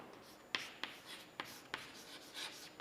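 Writing on a board while working a maths problem, a faint series of six or so quick taps and scratches of the pen or chalk, close by in a quiet room with no talk.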